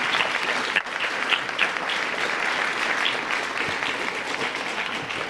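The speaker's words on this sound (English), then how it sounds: "Let's give a round of applause" An audience at a middle school National Junior Honor Society induction ceremony gives a full, sustained round of applause, many hands clapping evenly and loudly from start to finish.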